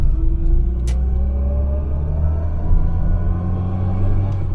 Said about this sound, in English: Love the sound of that A-series gearbox.